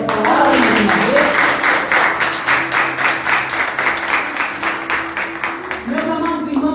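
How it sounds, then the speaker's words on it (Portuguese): A church congregation claps together in a steady rhythmic beat, loud and close, with voices carrying over the clapping throughout. "Você pode aplaudir a Jesus por essa palavra"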